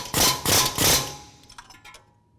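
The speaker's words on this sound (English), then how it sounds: "Then you get your air tool and give it a good snug hit." Three rapid, loud hammering bursts from an air impact tool snugging the fan clutch on a 1997-2004 Dodge Dakota, followed by lighter rattling taps as it quiets.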